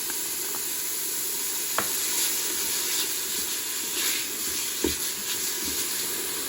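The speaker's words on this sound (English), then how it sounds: "And now I'm gonna add my onions in." Onions sizzle steadily in hamburger grease inside a Ninja Foodi pot, a continuous close hiss with a couple of soft clicks and knocks from the pot.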